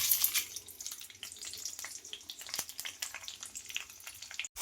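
Tempering spices crackle and sizzle in hot oil with garlic in a kitchen pan, giving a steady close hiss dotted with quick pops and spits.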